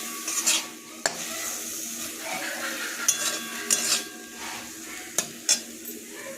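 A spicy mushroom masala fry turns in a pan, with steady sizzling broken by repeated sharp scrapes and clinks of a spatula against the metal at irregular moments, close and fairly loud, with no speech.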